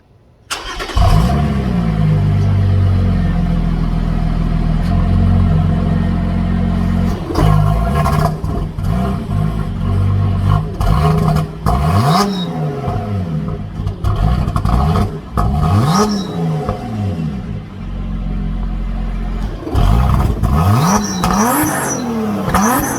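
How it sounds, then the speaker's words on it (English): A Lotus Evora's stock exhaust burbles at idle, then revs repeatedly in loud rising and falling bursts, close by and alone without talk. "This is what the stock exhaust sounds like on a Lotus Evora."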